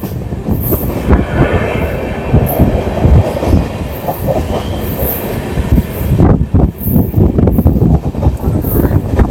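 A passenger express train runs past Kashimbazar station, a loud, close rumble of wheels on rails with rhythmic clacking, rattling carriages and brief metallic squeals carrying on throughout.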